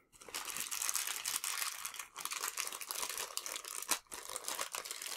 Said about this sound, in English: Just get them out of the plastic bag.